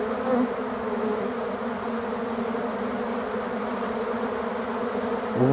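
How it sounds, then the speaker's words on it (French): Black honey bees cleaning leftover honey off honey extraction equipment make a dense, steady buzz, close and continuous throughout with no voices. "les abeilles ont bientôt fini la vaisselle et elles rentrent toujours un petit peu de miel encore"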